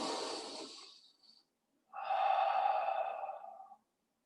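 Deep breathing during a core exercise workout: a strong exhale, a pause, then a long steady breath, close and alone with no talk.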